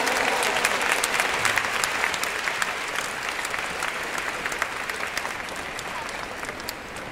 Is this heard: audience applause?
yes